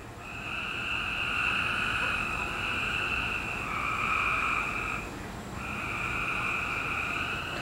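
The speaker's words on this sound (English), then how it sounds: "but we have tree frogs." Steady, overlapping trilling calls from about a dozen tree frogs, a continuous chorus with a brief dip midway before resuming.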